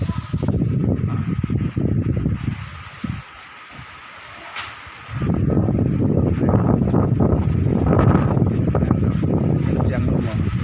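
Strong storm wind roars loudly, buffeting the microphone in heavy, turbulent gusts that drop away briefly mid-clip before surging back just as hard.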